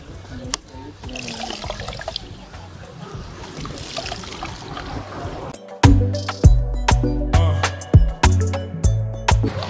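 Coconut liquid pours and trickles through a sieve for the second straining, starting as a softer splashing, then turning into louder, rhythmic splashes and drips in the second half, with talk nearby.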